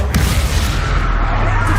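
A Confringo fire spell blasts in the Hogwarts Legacy game, a loud, dense, booming explosion with sustained rumbling low end over the whole short moment, with no talk.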